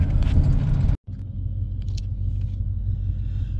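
A Ford F-150 pickup with a 5.8 liter V8 being parked after towing, its engine rumble cutting off abruptly, then a quieter idle-like rumble with small clinks and jangles.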